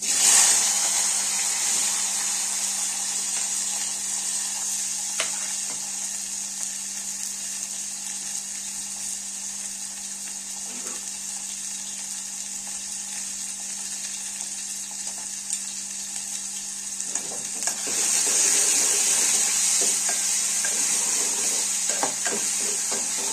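Cumin, mustard seeds, curry leaves, onion and tomato sizzle in hot oil for a tur-bean curry, a steady close hiss running throughout that swells louder near the end, with no talking.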